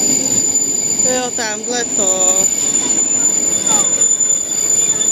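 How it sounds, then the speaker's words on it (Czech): Locomotive passing on railway tracks, loud and close, with high tonal wheel squeals and screeches sweeping over a rumbling roll of cars; a person speaks briefly over it. "A tam jde další lokomotiva."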